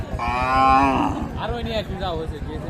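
Cattle at Raniganj livestock market in Dinajpur, a weekly rural haat held in late afternoon, give a long, loud, close moo, followed by a second lower, rising call against a busy crowd murmur.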